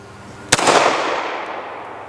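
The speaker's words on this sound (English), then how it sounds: "these are 200 grain semi-wad cutters that we're shooting here" A single sharp report from a .45 ACP British Enfield firing 200-grain semi-wadcutters cracks once, loud and close, then trails off in a long rolling echo.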